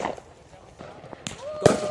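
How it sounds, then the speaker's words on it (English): Firecrackers at a Fourth of July fireworks finale festival pop in a few sharp, moderately distant cracks, spaced out over faint crowd noise and a brief whistle-like tone. "More firecrackers."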